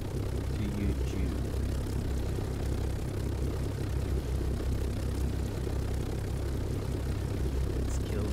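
XF-11 aircraft engines drone steadily in Microsoft Flight Simulator 2020, a constant low propeller rumble and hum at a steady level throughout.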